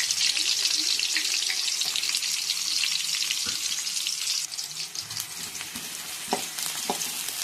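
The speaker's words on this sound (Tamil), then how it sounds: "நல்லா பொன்னிறமாக வறுத்து எடுத்துக்கோங்க." Two large onions fry in hot oil in a kadai for chicken chukka, giving a steady, bright sizzle with occasional stirring scrapes and clinks.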